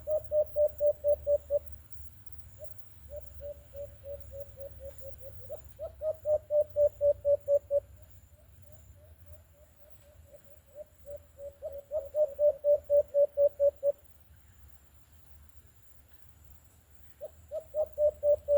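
An alpas bird calls during a bird hunt, repeating rapid runs of short, even notes in bursts separated by pauses, moderately near and clear against a quiet outdoor background.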